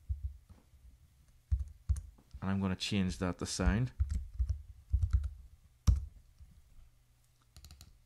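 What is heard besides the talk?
computer mouse double clicking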